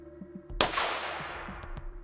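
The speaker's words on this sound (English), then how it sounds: "Gunshot." A single sharp gunshot sound effect bursts out suddenly and rings into a long fading decay, set in a quiet forest scene with a low hum underneath.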